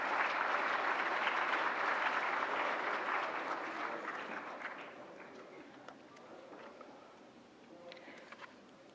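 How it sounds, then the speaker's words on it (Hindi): An audience applauds to welcome a government minister onto the stage at a national film awards ceremony, a broad wash of clapping that is loud at first and gradually thins and fades. "तालियों से स्वागत करें माननीय मंत्री"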